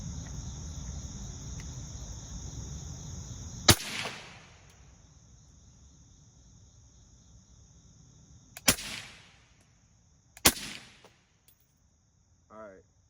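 A rifle firing SM855 supersonic ammunition outdoors: three sharp, loud cracks spaced several seconds apart, with insects chirping steadily in the background and a faint brief sound near the end.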